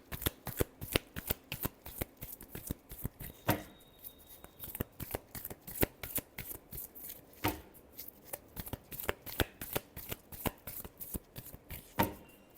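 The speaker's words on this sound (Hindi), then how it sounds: "Last shuffle." Tarot cards are shuffled by hand close up in a quick run of sharp riffling flicks and taps, with a few louder snaps along the way and a quiet room around them.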